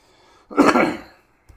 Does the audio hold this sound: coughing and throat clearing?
yes